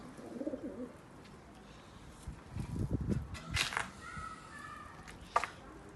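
Pigeons coo in a loft of Dutch tumbler-type play pigeons, soft low cooing rising in the middle alongside a few brighter chirps and wing or cage clatters, moderately near with no talk.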